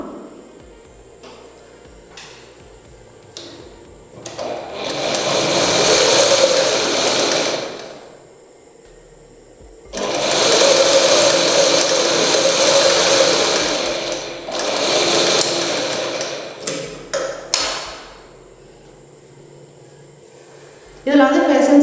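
Sewing machine stitching a small folded hem on garment fabric in a tailoring class, running in three long loud bursts with short pauses and a few brief stitches between, with a spoken voice in the gaps.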